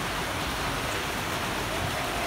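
Steady broadband rain falls on a grey, bad-weather day, a dense, even hiss with no breaks that holds at moderate level throughout.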